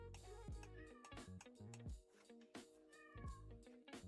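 A cat meows several times in a short, repeated series, the high tonal calls standing out plainly over steady low background noise.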